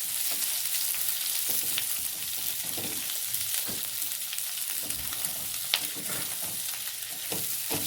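Sliced green chillies and onions frying in a kadhai, a steady broadband sizzle filling the clip with occasional soft stirring scrapes, close and continuous with no talking.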